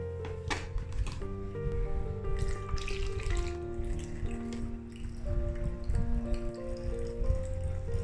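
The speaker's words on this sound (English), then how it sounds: "Fill the canister with water through the top cap before you starting it." Water pouring into a DoPhin CF300 aquarium canister filter through its top cap, a steady close gurgling fill with splashing and dripping that runs continuously, alone without voices.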